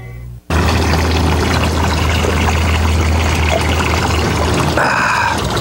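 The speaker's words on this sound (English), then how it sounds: "The last bit of water separated from the once contaminated mixture is returned to the original source." Water separated from a once-contaminated mixture rushes back into its source in a loud, steady, broadband pour that starts abruptly and holds at close range, with a low engine hum beneath.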